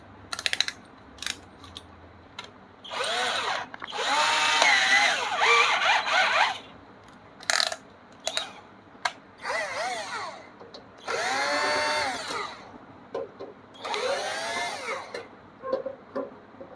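Power tool whirring in short repeated bursts as it backs out bolts from an iBELL Vormir VRM200-22 inverter welder, close and loud, with brief pauses between each bolt.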